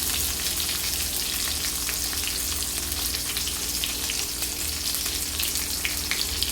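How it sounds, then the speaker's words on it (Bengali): Eggplant pieces fry in oil with a dense, continuous sizzle, loud and close, alone without any voices. "বেগুনগুলো হালকা একটু ভেজে তুলে নিব।"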